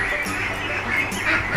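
Ducks quack in a duck pen, a dense overlapping chorus of nasal calls that is loud and continuous throughout.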